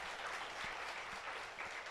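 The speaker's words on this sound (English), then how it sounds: "can you clap for the presenters" An audience at a research presentation applauds steadily, with dense continuous clapping throughout and no voices.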